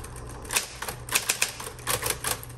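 Keys strike on a Smith Corona Electra 220 electric typewriter in quick irregular bursts of crisp clacks over a steady motor hum, close up and alone.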